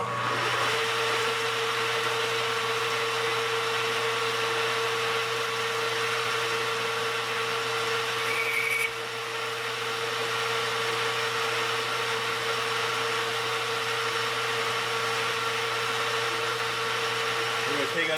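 A machine tool runs steadily through light cleanup cutting passes on a welding positioner part in a shop, a constant loud mechanical whir with a brief change midway and no pauses.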